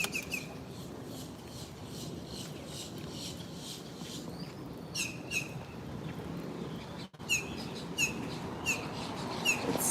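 Birds chirp and sing in repeated short high calls over a steady wash of rain near a beach, moderately distant.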